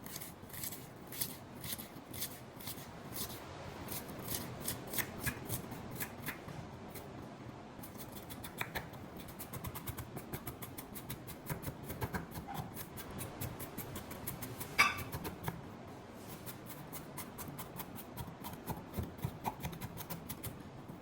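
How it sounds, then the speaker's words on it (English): A knife cuts an onion into very tiny pieces in a home kitchen, a quick steady run of close, crisp chops and scrapes on a board, with one sharper knock midway. "We're gonna cut the onion into tiny pieces, very tiny pieces."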